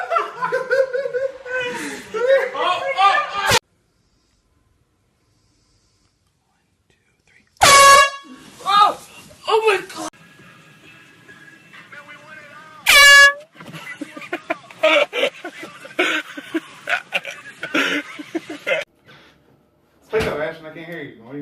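Air horn blasts from pranks go off abruptly at close range, several sharp, very loud bursts separated by silence and chatter, followed by laughter, snickering and excited talk between people.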